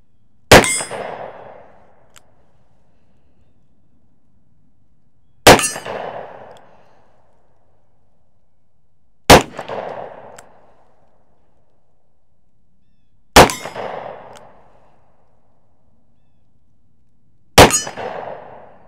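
A .357 Magnum snubnose revolver's bullets strike steel gongs 20 yards away: five sharp metallic clangs, each ringing out briefly, spaced a few seconds apart with quiet between.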